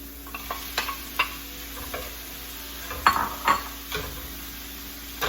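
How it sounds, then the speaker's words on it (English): Peeled, deveined medium shrimp frying in a pan, a steady low sizzle broken by light ticks and clinks of a utensil, with a couple of louder scrapes in the middle. "These are a medium shrimp that I've peeled and deveined. And I'm gonna add them right in."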